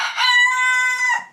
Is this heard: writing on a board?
no